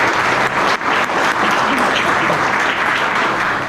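A church congregation claps during a Sunday morning service, a dense and loud sustained roar of hands with brief dips in intensity, continuing for several seconds.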